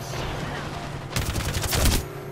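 Bursts of rapid gunfire in a first-person shooter video game, loud and close, with dense volleys building through the second half over a low background hum.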